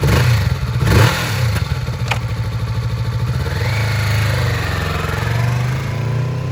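A used 2022 Kawasaki Vulcan S 650cc cruiser motorcycle runs close by, its engine holding a steady, throbbing idle with a brief rev near the start, alone with no talk.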